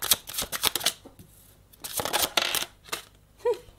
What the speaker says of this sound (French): Un peu difficile à battre parce qu'il y a beaucoup de cartes.